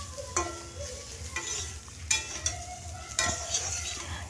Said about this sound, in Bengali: এরপর হলুদ দিয়ে দিচ্ছি সামান্য, দিয়ে এরপর ভালো করে মিশিয়ে আমি বেগুনগুলো কিছুক্ষণ ভেজে নেব।